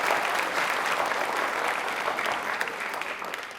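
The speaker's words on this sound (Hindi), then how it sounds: "इस मुहिम के लिए तालियां एक बार जोरों से बजा दीजिए प्लीज" A studio audience on a Rajasthan quiz show gives steady, dense applause throughout, loud and even with no pauses.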